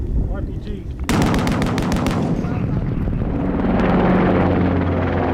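Loud bursts of machine gun fire in an Afghanistan war zone, a rapid string of sharp cracks followed by the continuous whir of helicopters arriving.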